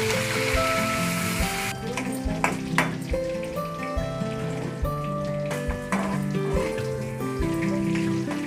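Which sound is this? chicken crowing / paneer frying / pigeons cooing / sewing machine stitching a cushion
paneer frying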